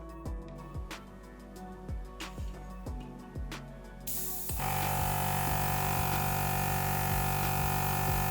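A Fengda mini airbrush runs off its own compressor with a pressure gauge fitted, starting with a rhythmic mechanical pulsing and then bursting into a loud, steady spray hiss that holds to the end.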